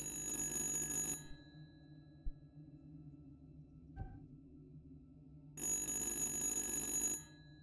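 Telephone ringing in the horror video game Little Hope: two long electronic ring bursts, one at the start and one near the end, separated by a quiet stretch with a faint low hum.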